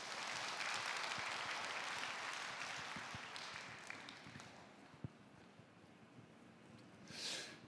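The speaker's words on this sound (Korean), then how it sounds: "박수로 모시겠습니다." Audience applause fills a church hall at a briefing event, dense broadband clapping that slowly thins out over several seconds, with a brief burst of noise near the end.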